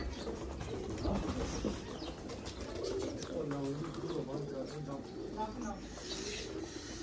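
A breeder pigeon, a prized Punjab champion's father, coos in a loft with repeated soft, throaty coos close by, mixed with other birds' chirps and someone talking over them.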